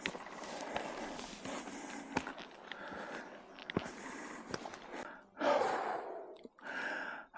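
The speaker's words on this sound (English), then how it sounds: "You can probably tell by my puffing and panting." Heavy puffing and panting from a hiker on a steep climb in the Lake District near Hodge Close, with loud, uneven breaths and gasps, close to the microphone, and faint footstep scuffs between them.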